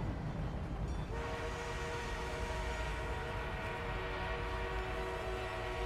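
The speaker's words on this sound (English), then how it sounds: "We are being reinforced with an armored train." An armored train in the Battlefield 1 video game rumbles steadily, with a sustained horn-like tonal drone coming in after about a second over a low rolling clatter, moderately faint and continuous.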